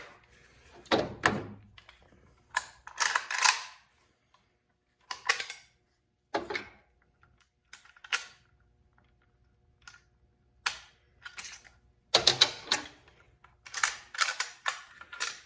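Sharp metallic clicks, snaps and clunks come from a Zastava ZPAP M70 rifle as its bolt and carrier are taken apart. They arrive in short separate bursts, close and crisp, with quiet gaps between them.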